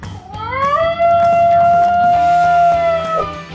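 A Basenji dog gives a long yodel-like howl in place of a bark, a rising then sustained wavering cry lasting a few seconds, close and loud with no talk.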